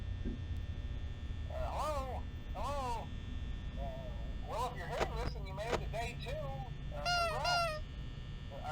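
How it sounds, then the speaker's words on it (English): Honking calls from Freddy's nose in Five Nights at Freddy's, several short rising squeaky honks in quick bursts, fairly loud over a steady low hum, with no talking. "Honk for good luck."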